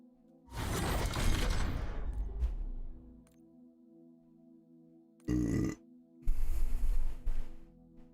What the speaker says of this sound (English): That's right, I burped.